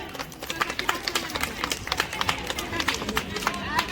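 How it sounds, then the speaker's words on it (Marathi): Brisk scattered clapping from a small crowd honouring a prize winner at a women's games gathering, mixed with busy chatter and voices throughout. "एकदा जोरदार टाळ्या वाजवा."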